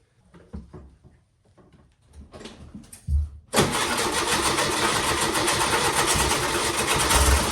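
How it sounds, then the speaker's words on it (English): A boat's motor is started after a long layup: a few uneven cranking thumps and clunks, then the engine catches and settles into a loud, steady, close running rumble. "right after trying to start the motor"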